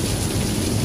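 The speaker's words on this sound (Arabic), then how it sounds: "قلب العاصفة" Heavy thunderstorm rain in Windsor, Ontario, a dense, loud, steady roar of downpour with deep rumbling filling the whole moment, no voices.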